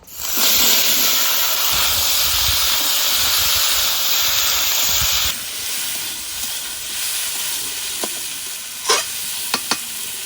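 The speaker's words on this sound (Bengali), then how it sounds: "তেলেই ইঁচড়টা ভেজে নেবো, সেদ্ধ করা ইঁচড়।" Boiled jackfruit pieces frying in mustard oil in a pan sizzle loudly and hiss with steam for about five seconds, then the sizzle drops to a quieter steady fry broken by a few sharp clinks.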